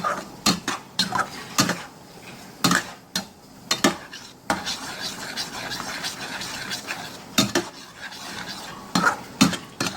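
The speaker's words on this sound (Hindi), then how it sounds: "फिर इसको मसाले में तकरीबन 5 से 7 मिनट के लिए अच्छी तरह से भूनेंगे" Mutton liver being stirred and roasted in spice masala, a spoon or spatula scraping and clanking against the pan in irregular bursts over a soft, steady sizzle, close up with no talking.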